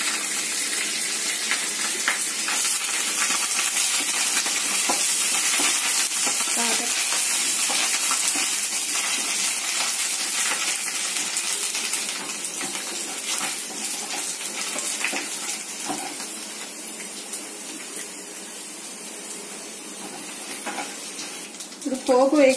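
Curry leaves and tempering seeds fry in leftover oil after bitter gourd, a steady broadband sizzle that slowly thins out over the clip, with faint clinks near the end and no talk.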